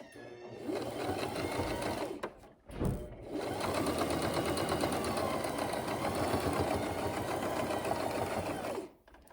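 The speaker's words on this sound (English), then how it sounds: "And I've sewn off the edge and now I'm good." A sewing machine runs in close, steady bursts while stitching along the layered edge of a zippered pouch, with a short pause in the middle before a long, even run that stops at the end.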